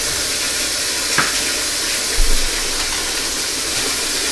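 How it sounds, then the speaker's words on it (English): Tap water pours steadily into a kitchen sink as it fills for washing vegetables, a loud, even hiss of running water with a couple of faint knocks and no speech. "So we're just going to fill up this sink with water."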